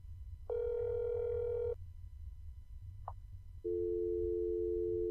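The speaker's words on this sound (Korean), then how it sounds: "그래도 한번 전화해봐야지." In the video game That's Not My Neighbor, a telephone gives a steady electronic tone, a short dial blip, and then a continuous busy tone, clean and loud with a low background hum.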